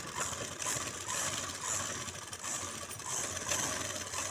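An electric sewing machine stitches elastic onto baby pajamas with a continuous, fast mechanical whirr and rattle. The pace eases and picks up slightly, and no one speaks.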